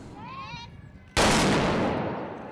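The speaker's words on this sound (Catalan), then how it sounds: "Aquest ha estat el tret de sortida de la trobada de la dona trabucaire de Catalunya" A loud blunderbuss (trabuc) blast at a trabucaire gathering in Terrassa, Catalonia, a single booming shot that cuts in abruptly and rolls off in a long echoing tail, preceded by faint crowd noise.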